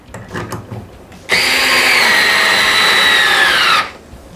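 A Parkside PSF 4.6 A1 cordless screwdriver, just taken off its charger, spins up sharply and runs at a steady high-pitched whine for about two and a half seconds before cutting off, close and loud, with no talking over it.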